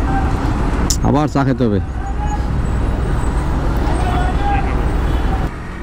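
Steady, loud traffic roars along the Dhaka–Chittagong highway, with a vehicle horn blaring for under a second early on and people talking over the constant road noise.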